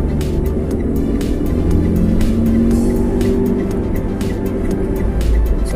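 A car drives steadily with a constant, loud engine and road drone from inside the cabin, unbroken from start to finish and with no sharp events.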